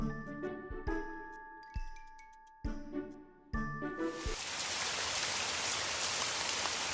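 Heavy rain pours down at night over a village, a dense steady hiss that swells in after a few tinkling chimes and soft knocks and then continues loud and unbroken.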